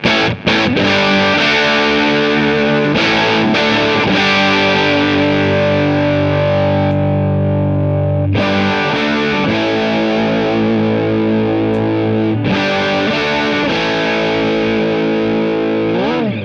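A loud, heavily distorted electric guitar through an AudioStorm HotBox125i attenuator plays sustained chords and riffs continuously, thick and saturated, with a few brief gaps between phrases.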